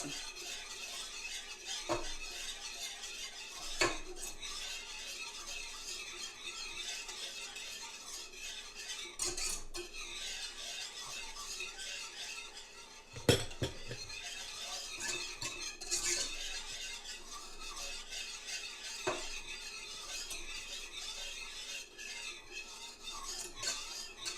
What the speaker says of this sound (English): now we're going to give this a whisk and let it reduce just a little bit.